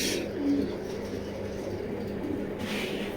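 Pigeons of foreign bloodlines in a racing loft coo steadily at close range over a low constant hum, with no voices.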